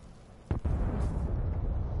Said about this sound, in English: Wow, that sounded like a big explosion.